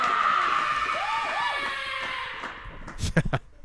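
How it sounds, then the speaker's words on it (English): A studio audience applauds and cheers as a guest, Kate Douglas, is brought out onto a horror show set, with a whooping, whistling voice rising above the steady crowd noise before someone starts talking near the end. "Big round of applause for Kate Douglas"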